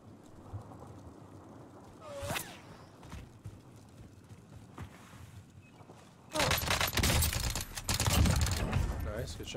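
Bursts of gunfire in Call of Duty: Warzone, with a distant shot early on and then dense rapid automatic fire in the final seconds, alongside keyboard clicks and a player talking.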